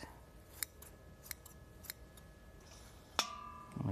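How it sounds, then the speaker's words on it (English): Kitchen scissors snip microgreens in a few sharp, close clicks spaced irregularly, followed by a brighter metallic clink and rustle near the end, with no talking. "all you need is just a pair of scissors,"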